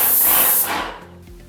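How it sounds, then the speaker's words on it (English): A Wagner Control 150M airless paint sprayer hisses loudly in a broad spray for about half a second, then the hiss drops away and fades as the stroke ends. "Now we're going to spray left to right."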